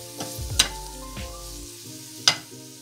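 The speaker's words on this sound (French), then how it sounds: "dans une poêle, j'ai fait chauffer de l'huile d'olive, j'ajoute l'ail émincé. Je fais revenir l'ail." Minced garlic frying in hot olive oil in a pan, with soft sizzling under a few sharp utensil clinks and scrapes against the pan, close and fairly quiet.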